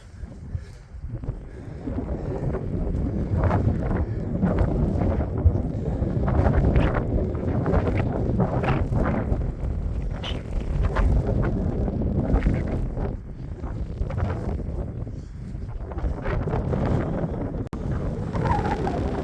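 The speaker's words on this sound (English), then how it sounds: "It's very windy." Strong wind buffets the microphone outdoors in the Shropshire Hills in a steady, roaring rush with gusty surges, loud and continuous throughout.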